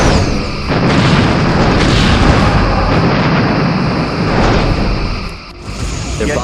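Torpedo launches and explosions boom and rumble in the Star Trek Bridge Commander space combat game, a loud dense barrage of blasts rolling almost continuously, dipping briefly before another burst.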